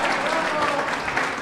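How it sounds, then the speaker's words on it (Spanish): An audience breaks into steady applause, dense clapping from a crowd filling the whole moment without pause. "denle un aplauso a José Luis, por favor."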